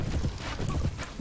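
Horse hooves clip-clopping under a rider in the video game Mount & Blade: Warband, a short run of quick, evenly spaced hoofbeats, close and fairly loud.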